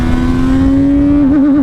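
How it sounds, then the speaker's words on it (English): CFMOTO 675 SR-R motorcycle on the Portimão track holding a loud steady high-rpm engine note, then stuttering as it bounces off the rev limiter. "Rev limiter."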